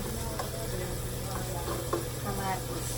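Tomatoes cooking in a covered pan, a soft continuous sizzle with faint crackles and a few light ticks, quiet and steady throughout.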